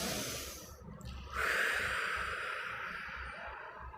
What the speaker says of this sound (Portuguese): pode fazer uma respiração bem profunda